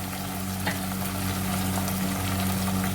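Ginger garlic paste, dried coriander and whole spices frying in a pot for deghi-style palak gosht, a loud constant sizzle with occasional stirring scrapes.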